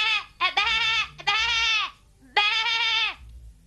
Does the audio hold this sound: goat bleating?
yes